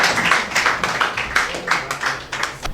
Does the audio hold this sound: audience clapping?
yes